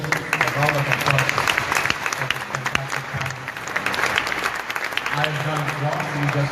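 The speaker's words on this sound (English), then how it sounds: "Ladies and gentlemen, a round of applause." Conference attendees at an energy-sector investment session give a steady round of applause, dense clapping sustained for several seconds, with some speech mixed in.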